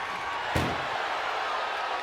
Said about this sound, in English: Pushing with every fiber of their being to slam the door.